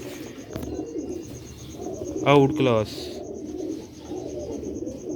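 Pigeons coo in soft repeated rolling calls, with one louder burst of cooing midway, while someone talks over them.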